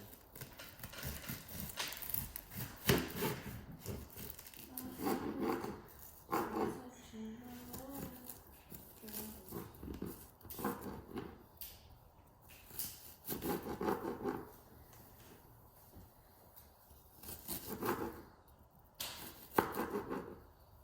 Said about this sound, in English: We're going to dice an onion.